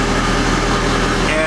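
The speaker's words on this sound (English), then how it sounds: "the car's idling good" A car fitted with a KTuned throttle body idles steadily after a sticking-throttle fix, giving a constant, even hum and whir with no revving, heard close up with a voice talking over it.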